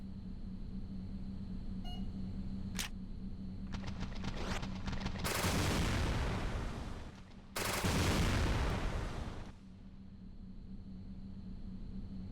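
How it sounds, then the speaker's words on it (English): A charged particle rifle fires in Resident Evil: Dead Aim, giving two long loud crackling electric bursts after a beep and a few quick clicks, over a steady electronic hum. "I sure hope I'm able to deal with them with my brand new charged particle rifle"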